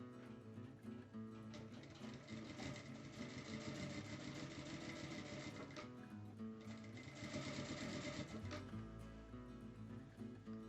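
A sewing machine stitches a fabric bag turned right side out, running steadily with a dense mechanical whir that holds at even loudness for most of the stretch before a brief pause near the end.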